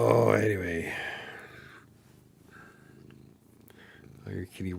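A pet cat purrs softly close by, a low rumbling purr most distinct at the start and fading under quiet background sounds, with a voice briefly heard.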